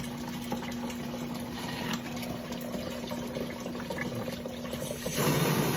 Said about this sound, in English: And then I'm going to siphon this last one and get a perpetual flow of water.